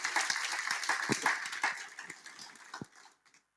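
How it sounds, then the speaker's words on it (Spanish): Applause from a church congregation, with a dense burst of clapping that thins and fades out over a few seconds. "Dale un aplauso al Señor."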